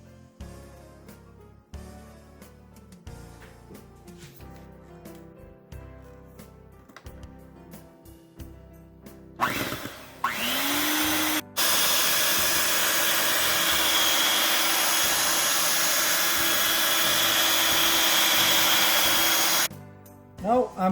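Electric hand mixer beating butter for a plum cake batter, starting with a short whir, then running steadily and loudly for about eight seconds before stopping, after quieter kitchen clatter.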